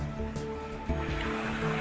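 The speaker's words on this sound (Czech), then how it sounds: "Potůček si hezky bublá." A small mountain stream in a damp gorge babbles close by, a continuous gurgling water sound over this brief stretch, with no voices.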